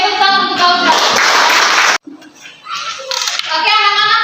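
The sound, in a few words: children clapping for a classmate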